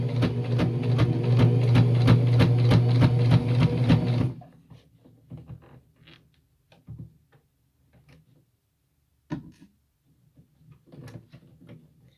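A sewing machine stitching small two-inch quilt squares for a cathedral quilt runs loud and close with a fast steady whir for about four seconds, then stops, leaving faint handling clicks and fabric rustles.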